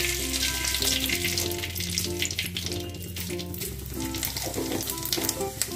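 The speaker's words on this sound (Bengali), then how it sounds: "আমি একটা তেজপাতা আর একটু জিরে ফোড়ন দেব" A bay leaf and cumin seeds sizzle in about two tablespoons of hot oil, a close, continuous crackling fry under soft background music, with no one speaking.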